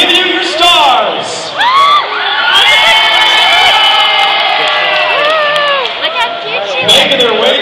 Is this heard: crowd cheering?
yes